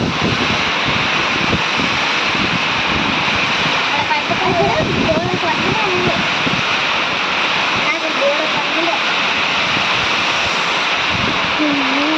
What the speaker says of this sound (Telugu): మస్తు పెడుతుంది చూడండి గాలి వాన